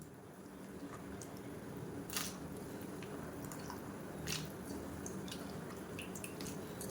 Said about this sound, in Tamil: இப்போ அதை வந்து எடுத்து இந்த சுடுதண்ணியில் சேர்த்துக்கலாம்